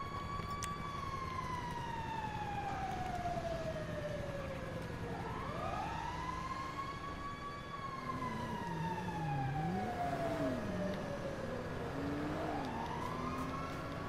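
Wailing police sirens in the video game GTA V rise and fall continuously, overlapping one another with a steady vehicle rumble underneath.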